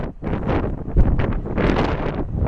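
Strong gusty wind at Hartsfield airport in Atlanta during a wind advisory, loud buffeting rushes battering the microphone in uneven surges, no voices.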